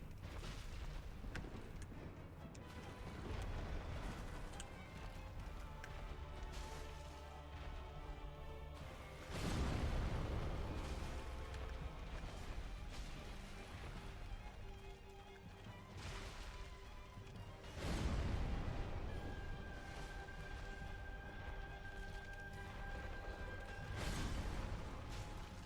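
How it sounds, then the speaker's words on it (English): Explosions in Dark Souls Remastered during the Gaping Dragon boss fight: a few heavy booming blasts rise out of a continuous low rumbling game soundscape, spaced several seconds apart. "those explosions are gonna be really annoying to deal with"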